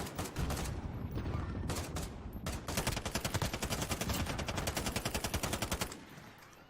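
Rapid automatic gunfire from a multiplayer shooter video game with vans and spike-planting objectives, sustained bursts of machine-gun fire running steadily for several seconds and then cutting off.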